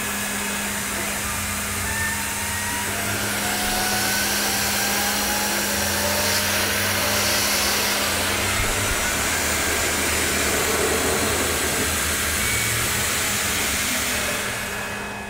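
A CNC machine spot drilling steel, a steady loud whir with a constant low hum and faint rising tones, running continuously throughout without any voices.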